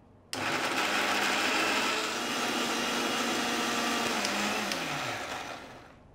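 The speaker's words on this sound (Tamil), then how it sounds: "இப்போ அது வந்து மூடிட்டு அரைக்க போகிறோம்." A kitchen mixer grinder switches on abruptly and whirs loudly as it grinds a prawn pickle salsa with a little water, then winds down with a falling pitch near the end, close and with no talking over it.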